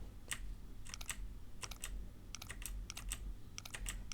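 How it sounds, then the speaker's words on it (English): Rapid clatter of keys being typed on a new, loud computer keyboard, with bursts of clicks in irregular clusters close up and no talking. "this new keyboard, it's louder than my old keyboard"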